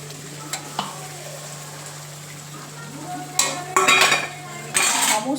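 Spiced masala for a chital fish curry is stirred and fried in a pan, with a soft background sizzle and then loud bursts of scraping and clattering from a spoon against the pan near the end.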